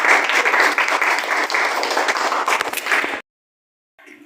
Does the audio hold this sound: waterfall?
no